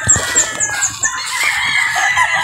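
A rooster crows at a Batangas gamefowl farm stocked with local banded birds, its call rising over repeated clucking from other fowl, fairly close and steady across the whole stretch, with no talk.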